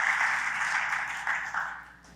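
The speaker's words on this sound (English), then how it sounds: "Give her a round of applause." An audience applauds for a speaker's wife at a school choice event, a steady broad wash of clapping that holds at full strength and then begins to fade toward the end.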